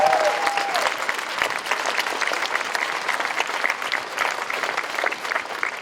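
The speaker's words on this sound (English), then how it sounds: "let us give a great round of applause to everybody in the Secretary of Commonwealth's office" Crowd at a governor's event on restoring voting rights in Virginia applauding, a loud sustained roar of many hands clapping with a brief voice at the very start.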